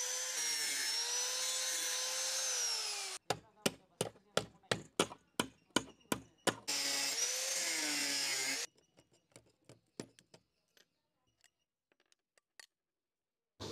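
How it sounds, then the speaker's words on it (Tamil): A cutting machine slices metal for a turbo wood stove in two sustained, loud, high-pitched grinding bursts. Between them comes a rapid run of sharp, evenly spaced knocks, and faint scattered taps follow at the end. "அந்த இடத்த வந்துட்டு கட்டிங் மிஷின் வச்சு கட் பண்ணிக்கிறேன்"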